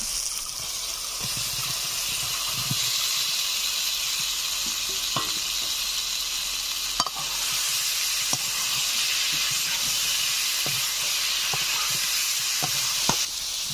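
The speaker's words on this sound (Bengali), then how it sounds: "ভেজে রাখা আলুগুলো মশলার উপর দিয়ে আরো কিছু সময় ধরে কষে নেব।" Fried potatoes sautéing in a spiced masala for aloo dum, giving a steady, close sizzle and hiss with occasional soft stirring clicks throughout.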